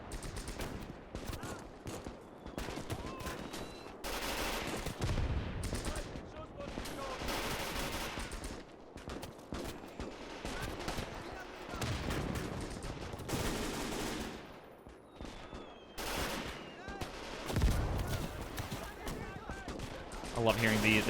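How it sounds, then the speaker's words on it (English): Mortar and rifle fire roar through a Gates of Hell Stalingrad battle between German and Soviet troops, dense and continuous with overlapping blasts and bursts of gunfire, loud and close throughout. "We got a mortar up front here firing."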